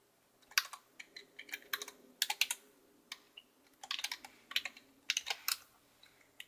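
Rapid bursts of typing on a computer keyboard during a FreeNAS server upgrade, clicking keys arriving in quick irregular clusters with short pauses, close and fairly quiet, with no voices.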